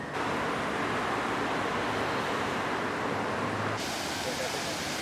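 A steady, dense roar of rushing water, broad and unbroken throughout, from the 20-metre Düden waterfall in Antalya, Türkiye, heard from nearby.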